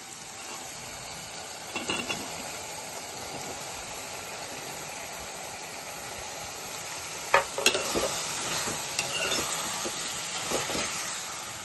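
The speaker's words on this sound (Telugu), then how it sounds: "టమాటాలు, ఉల్లిపాయలు నూనెలో మగ్గిన తర్వాత మనం కట్ చేసి పెట్టుకున్న బీరకాయ ముక్కలు వేసుకుందాం" Ridge gourd pieces fry in oil with softened tomatoes and onions, giving a steady low sizzle with a few sharper stirring scrapes near the start and again toward the end.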